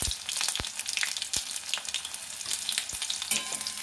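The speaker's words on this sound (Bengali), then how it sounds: "রসুনটা দিয়ে দিলাম, পাঁচফোড়ন দিয়ে দিচ্ছি" Crushed garlic and panch phoron five-spice fry in hot oil for a coriander-leaf pickle: a steady close sizzle with crackling pops and occasional sharp clicks of stirring.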